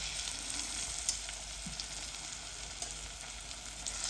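Mango chips sizzle steadily in melted jaggery and oil for a sweet-sour pickle, a continuous close frying hiss with occasional faint clinks.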